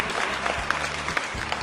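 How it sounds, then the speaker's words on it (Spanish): Brief, lively applause greeting a guest on a talk programme, a full burst of clapping with a few sharper claps standing out, lasting under two seconds. "Démosle un fuerte aplauso"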